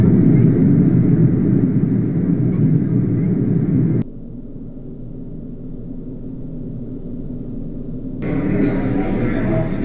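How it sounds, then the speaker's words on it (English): Simulated airplane cabin noise plays as a steady, loud broadband roar with a deep rumble, dropping to a quieter hum midway and then swelling back up. "simulated airplane cabin."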